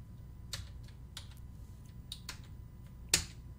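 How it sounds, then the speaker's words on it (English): Computer keyboard keys being pressed in sparse, irregular clicks and taps at close range, a few louder strokes among quieter ones over a low background hum. "My keyboard's playing up again."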